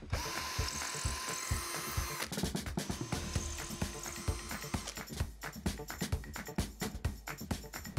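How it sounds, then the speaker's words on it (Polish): A power drill bores holes into a wooden frame for a key cabinet, a loud continuous whirring grind that shifts pitch partway through as the bit bites in, with ratcheting mechanical chatter. "Teraz nawiercimy, tak aby haczyki nie uszkodziły ramki."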